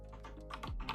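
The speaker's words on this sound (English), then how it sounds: "we're going to start typing some stuff up" Quick clicking keystrokes on a computer keyboard while coding a web project, several close taps in a brisk uneven rhythm over a low hum.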